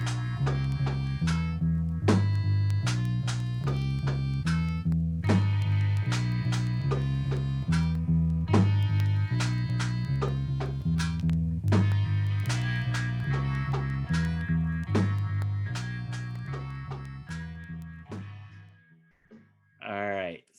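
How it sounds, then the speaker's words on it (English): A song featuring a red and white melodica plays steadily with dense harmonic tones over a low repeating bass line and percussive hits, loud and continuous for most of the stretch before fading out near the end. "There's a melodica in it."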